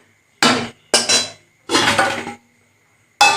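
Bhuna khichuri is stirred in a metal cooking pot, then the pot is covered with its lid. Separate bursts of clanking and scraping ring out close by, with short silences between them.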